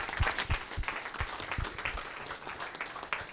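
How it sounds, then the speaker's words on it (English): A conference audience applauds insurtech panelists at the close of a tech talk, a short, moderately quiet burst of clapping with a few distinct louder claps standing out and no speech. "Please give a big round of applause for all our panelists."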